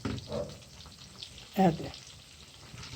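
Chicken karahi masala mixture fries in a pan with a steady soft sizzle, a brief louder stir or scrape near the middle, while a voice speaks briefly over it.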